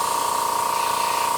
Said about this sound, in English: and just getting a little spray through.